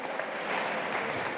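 A youth forum audience applauds a drummer and singer, a brief burst of steady, moderately dense clapping heard at some distance.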